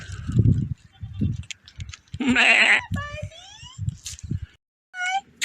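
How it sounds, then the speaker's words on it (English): Goats bleat nearby in the Richtersveld, several short wavering cries breaking in among low thumps and background noise. "There's a whole lot of goats coming up to say hello."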